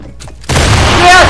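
A remote bomb goes off in the video game Fortnite after a brief quiet moment, bursting into a sudden loud boom with a rumbling, crackling tail.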